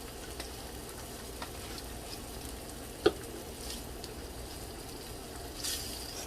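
Food bubbles and sizzles in a very hot pot of turkey meatball sauce, a faint, steady hiss with scattered soft pops and one sharper click near the middle.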